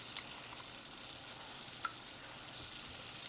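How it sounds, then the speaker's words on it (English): Guanciale sizzles quietly in a pan for carbonara, a soft, steady frying hiss with a few small pops and no talking. "I can hear our guanciale sizzling."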